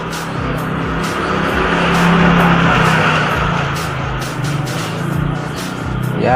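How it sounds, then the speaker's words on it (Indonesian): A motorcycle passes close by outdoors, its engine a steady broadband roar that swells slightly in the middle and holds throughout, with no voices. "Ya suara sepeda motor lewat,"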